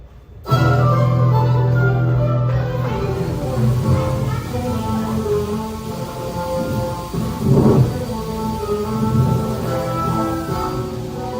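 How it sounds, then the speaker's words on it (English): An approaching thunderstorm at nightfall rumbles steadily with low thunder and a heavy wash of rain, mixed under an orchestral-style score with a louder swell near the end. "Night was falling, a storm was approaching, and it was getting hard to see."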